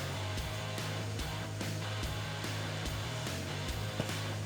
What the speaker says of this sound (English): I also used the free space to vacuum all the dirt and dust